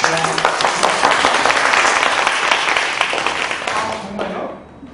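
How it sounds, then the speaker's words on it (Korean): Audience at a literary concert for a young poet breaking into loud, dense applause that holds steady for several seconds, then fades away quickly at the end. "박수 부탁드릴게요."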